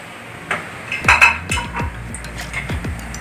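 Cinnamon, cardamom, pepper and cloves are stirred in a pot for chicken biryani. A spoon clinks and scrapes against the metal in a series of close, clear knocks.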